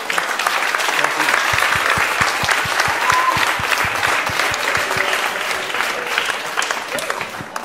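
Audience applause at a live podcast recording: loud, sustained, closely spaced clapping that fills the space, with sharp individual claps standing out near the front.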